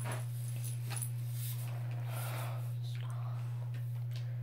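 A dog whimpers, snuffles and chews in the background indoors, soft and intermittent over a loud steady electrical hum, with a person's hushed voice faintly present.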